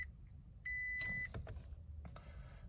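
A Toyota Tacoma dashboard in accessory mode gives a steady electronic beep lasting about half a second, faint and close, with soft clicks and rustling around it.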